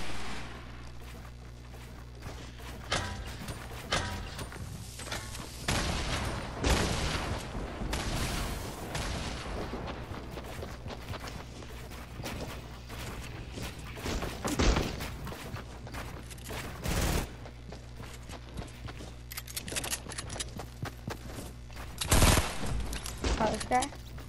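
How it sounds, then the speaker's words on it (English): Video game gunfire in a tournament match, bursts of rapid shots and sharp blasts scattered irregularly, moderately loud against a constant low hum, with players talking intermittently. "He's still shooting."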